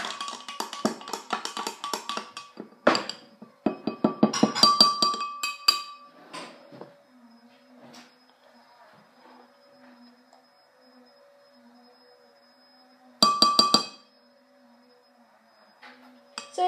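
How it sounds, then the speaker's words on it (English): A spoon stirs a milkshake in a glass, giving a run of bright clinks and scrapes, then a long quiet stretch with faint taps, then another short burst of clinking, close and clear. "you're just going to want to stir it"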